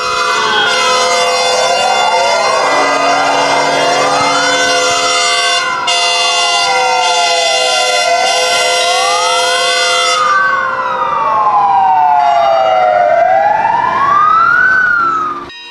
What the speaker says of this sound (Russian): На небесный вызов он ушел под звуки пожарных сирен.